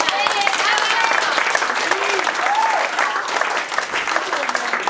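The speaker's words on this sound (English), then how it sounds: "So I think a little round of applause there." A wedding reception room full of people claps steadily and warmly during a best man speech, with a few scattered voices and whoops rising over the applause.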